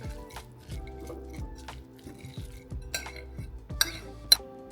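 Caesar salad with mini croutons is tossed in a bowl, giving soft rhythmic clinks and scrapes of a utensil against the dish, repeated every half second or so, close and fairly quiet.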